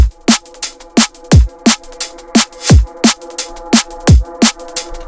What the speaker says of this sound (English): that kick and snare is now punching through the mix like anything else